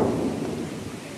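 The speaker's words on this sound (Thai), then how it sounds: "ฟ้าร้อง" Thunder rolls before rain in rural Thailand, a heavy low rumble close and loud that slowly fades over a second or so, with no voices.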